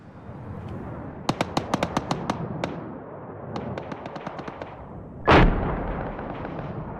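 Bombs and gunfire in the military video game Arma 3 during a convoy fight: sharp cracks of shots go off in two bursts, then one big close explosion roars and fades into a rumbling tail over steady background noise.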